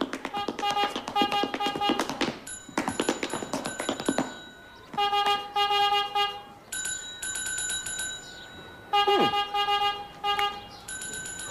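A horn honks out a rhythmic pattern of short toots in bursts, answered by bright ringing dings, fairly close and loud.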